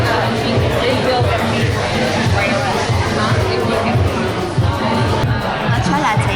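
Busy crowd chatter fills the Manchester Press cafe in Melbourne, a continuous dense babble of many overlapping voices with clinking and movement mixed in, steady and fairly loud throughout.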